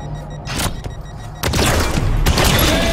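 Shotgun blasts in the video game Halo 5, a few heavy booming shots with sharp onsets, the loudest near the middle, followed by dense rumbling crackle of game combat.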